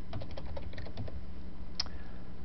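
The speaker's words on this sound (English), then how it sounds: "I'm going to type in a passphrase here." Someone types a passphrase on a computer keyboard in a quick burst of close, crisp keystrokes that stop partway through, then a single sharper click follows.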